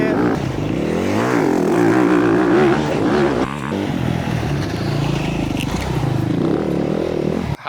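A dirt bike brakes and corners on a track in Hanoi, its engine revving up and down with wavering pitch, close and loud and continuous, briefly dipping midway.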